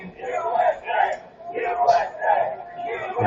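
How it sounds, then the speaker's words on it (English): Protest crowd chanting USA outdoors with police present, rhythmic shouted chant rising and falling in repeated bursts, loud and fairly close. "Now they're chanting USA"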